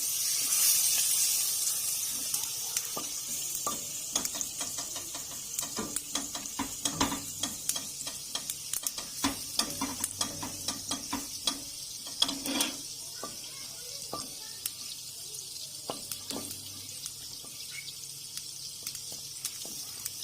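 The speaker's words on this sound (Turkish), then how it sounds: "Evet margarinimizi eritiyoruz." Soft sizzling and bubbling of margarine melting in a pot, with occasional scraping and stirring clicks, steady and quiet throughout.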